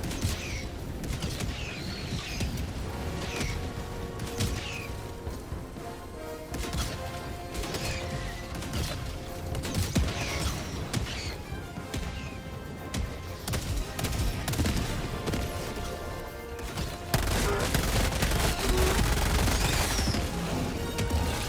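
A sentry turret deploys and fires in the video game Helldivers 2, giving steady rapid gunfire and crashing impacts that continue through the scene, with a heavier rumbling boom toward the end.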